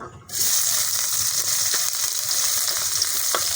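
Onions sizzle steadily in hot oil in a pan, a dense frying hiss that starts abruptly and holds loud and close, with a few faint stirring clinks.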